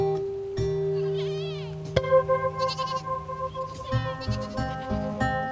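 Goats from a mixed herd bleat repeatedly while grazing in the Ladakh mountains, several overlapping wavering calls near and mid-distance over a steady drone.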